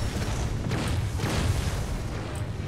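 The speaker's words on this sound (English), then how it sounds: "Well, I thank you for the favor, artillery bot, but please don't shoot through walls" An artillery bot in Hard Reset fires through walls, producing low booming blasts over a steady rumbling combat roar, with a couple of sharper bursts rising above the din.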